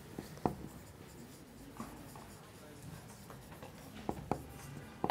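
A marker writes on a window pane, making brief squeaky strokes in scattered bursts over a quiet room, with faint voice sounds in the background.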